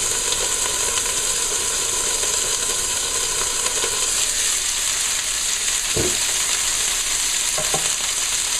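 Lobster tails sizzle steadily in an oiled pan over moderate heat, a loud continuous frying hiss with a couple of brief clinks or knocks midway.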